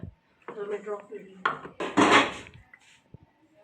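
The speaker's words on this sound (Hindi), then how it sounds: "इसके अंदर एक दफ़ा चने डालने के बाद हम लोगों ने इसको भी इसके अंदर अच्छे तरीके से मिक्स कर लेना है।" Boiled chickpeas are mixed into rice in a cooking pot, with a series of close metallic scrapes and clanks of a spoon against the pot in short irregular bursts, followed by a few lighter taps.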